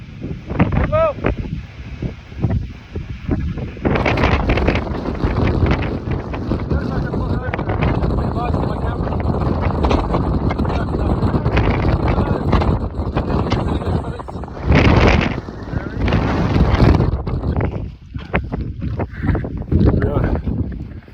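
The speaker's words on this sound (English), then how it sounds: "very cold, but mostly very, very windy" Strong, continuous wind buffets the microphone high on a snowy Glenshee Munro in a blizzard, a loud roaring rush with gusts swelling and easing throughout, briefly broken by a few faint spoken sounds near the start.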